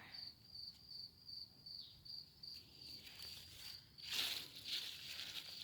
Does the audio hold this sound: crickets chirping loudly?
yes